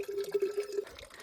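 Cold water from a mountain spring in an apple-growing hill village runs steadily into a container, a close, continuous trickle with a ringing filling tone that fades out near the end.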